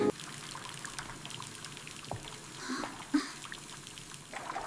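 Water splashing and pouring in a bathtub during children's bath play, a soft continuous trickle with a few small splashes, fairly faint and alone.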